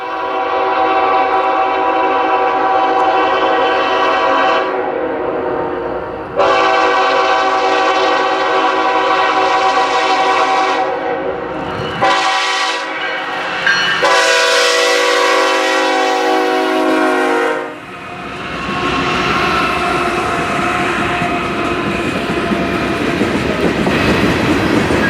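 KCS M263, a daily manifest freight from Shreveport to Kansas City, sounds its horn in several long blasts at Watts, then the cars roll past loudly with rumbling, clattering wheel noise.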